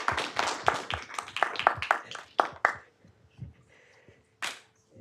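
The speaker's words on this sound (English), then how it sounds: "Let's give them a round of applause." Scattered applause from a small audience in a city council chamber honoring students, a few seconds of distinct, close hand claps that thin out to isolated claps and quiet room noise.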